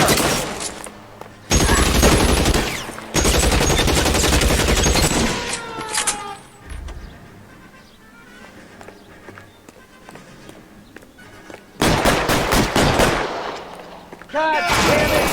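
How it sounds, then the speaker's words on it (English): Gunfight in L.A. Noire, with loud bursts of rapid gunfire in close succession, a quieter stretch of scattered shots and movement, then another heavy volley of shots. "Covering fire!"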